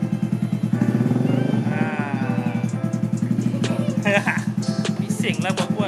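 A Suzuki SRL 115 Fi motorcycle engine runs loudly up close, its exhaust thumping in a fast steady rhythm, with a voice briefly rising over the rumble.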